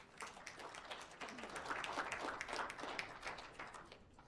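A community board meeting audience claps for a state senator, a fairly faint, thin patter of scattered hands heard from a distance in a hall.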